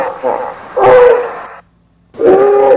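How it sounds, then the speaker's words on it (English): A hippo calls in two bursts of deep, gruff, honking grunts, loud and close, separated by a brief silent pause. "It's a hippo."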